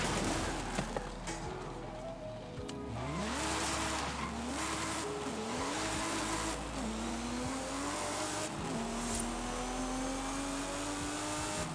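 BMW E36 M3 in Forza Horizon 5 driven at speed, its engine note climbing and dipping through gear changes with tire squeal and skidding, loud and continuous with no talk.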